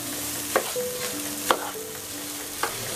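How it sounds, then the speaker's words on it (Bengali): Rice frying with spices in a pan while being stirred, a steady sizzle broken by three sharp scrapes of the spoon against the pan, close and alone with no talk. "মশলাটা কষিয়ে চালটাকে আমি এখানে ভালোভাবে ভেজে নিচ্ছি।"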